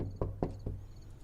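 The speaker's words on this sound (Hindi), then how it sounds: "कोई दरवाजा खटखटा रहा है" Three sharp knocks rap on a house door at night in an irregular rhythm, each distinct and fairly close, with quiet room tone between them.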